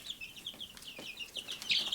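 Bielefelder chickens, a large breed, in a flock of hens and roosters, giving faint, scattered clucks and short chirpy calls at low volume over quiet background.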